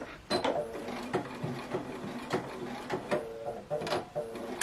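A Bernina sewing machine stitches in short mechanical bursts, a rhythmic clatter with regular knocking pulses, close and fairly quiet.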